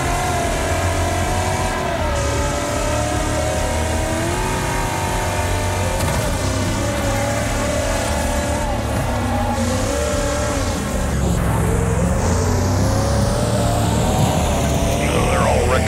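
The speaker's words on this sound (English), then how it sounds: "See how this car handles on this track." Race car engine in the Wreckfest racing game, a loud sustained roar with shifting pitch as it revs through the gears, growing harsher and louder near the end of the stretch, with no talking over it.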